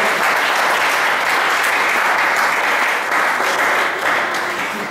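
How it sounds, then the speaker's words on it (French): A church congregation breaks into loud, sustained applause, many hands clapping together in a dense, even wash that carries on for five seconds before tapering slightly at the end. "Acclamons très fort pour la gloire du Seigneur."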